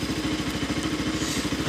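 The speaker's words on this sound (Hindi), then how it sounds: "थोड़ी देर इंजन को गर्म होने देते हैं और चलते हैं फिर कोटली" A scooter engine idles steadily on a cold day, warming up. It gives a close, even, rapid puttering throb that holds constant for the whole short stretch, with no talk.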